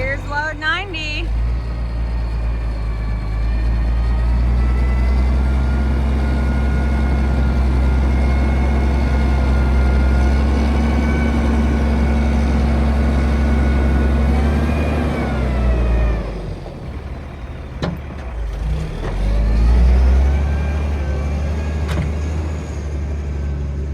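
A dump truck runs at a dirt track while dropping a load of dirt: a loud, steady, low engine rumble with rising harmonics holds for about fifteen seconds, then dips and surges briefly near the end.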